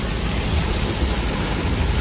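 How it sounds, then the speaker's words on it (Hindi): Heavy rain drums on a car in a steady, loud, dense hiss that fills the whole stretch without pause, with no voices heard. "और रात भी ऐसी ही बारिश बहुत ज्यादा तेज हो गई, शायद आवाज आ रही होगी आपको अभी।"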